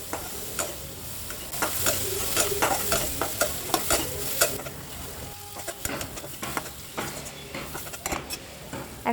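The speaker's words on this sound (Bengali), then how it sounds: "এখন এগুলোকে খুব ভালোভাবে নেড়ে চেড়ে হালকা ভেজে নেব।" Shrimp seasoned with salt and turmeric being stirred and lightly fried, a constant sizzle broken by repeated scraping and clinking of a utensil against the pan, close and fairly quiet.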